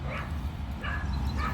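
A dog barking and yipping in short bursts at a distance outdoors, faint over a steady low background rumble.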